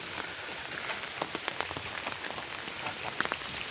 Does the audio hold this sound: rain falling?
yes